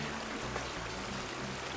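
Water pouring steadily for a wash outdoors, a continuous close splashing stream with no voices.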